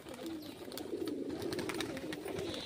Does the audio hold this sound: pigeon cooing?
yes